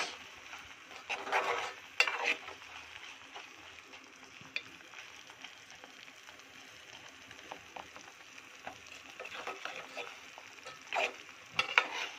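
Grated coconut gets stirred into raw mango halwa in a pan, with soft, intermittent scraping and light sizzling, fairly quiet and close, with no voices.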